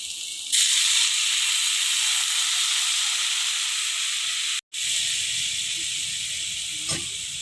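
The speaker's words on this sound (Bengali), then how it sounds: "এখন আমি আলুর উপর দিয়ে দেবো জল।" Water poured over frying potatoes in oil hits the hot pan with a sudden loud sizzling hiss that holds steady, breaks off for an instant, then carries on with low bubbling and a small clink.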